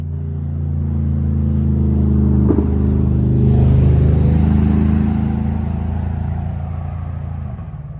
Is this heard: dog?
no